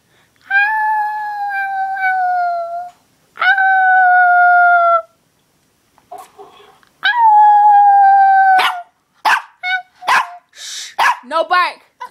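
A puppy gives long, wavering howls in three drawn-out bursts, then breaks into a run of short, high yips and barks, close and loud, with brief quiet gaps between.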